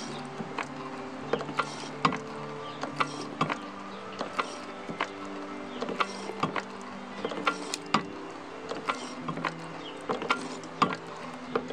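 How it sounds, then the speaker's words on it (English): Repeated mechanical clicks and ratcheting from a Daytona floor jack handle being pumped during a repair, about fifteen strokes in a steady rhythm that speeds up slightly, close and moderately loud with no talking. "Then I'm gonna slowly pump it up about 10 or 15 times."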